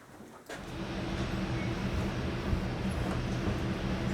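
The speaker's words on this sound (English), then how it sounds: "Train's here." A model train arriving on a RailCrew layout, a steady rumbling roll that starts abruptly and continues evenly at moderate loudness with no voices.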